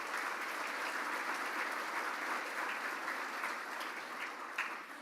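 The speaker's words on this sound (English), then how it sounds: "give them a big round of applause as well." Applause at a Rotary Club gathering honoring deputy chiefs and mayors, a steady, dense round of clapping from a large audience that is moderately distant and evenly sustained, easing slightly near the end.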